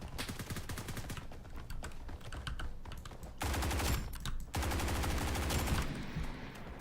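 A G36 rifle in Blackhawk Rescue Mission 5 fires in rapid automatic bursts, dense rattling volleys with short pauses between them, loud and close.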